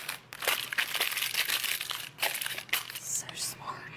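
Parchment paper is crinkled and pressed into a baking dish, a close, busy rustle of crackles and crunches with brief gaps throughout.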